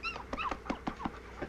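A young sled dog whimpers and yips in a quick series of short, high, wavering cries, close and fairly soft.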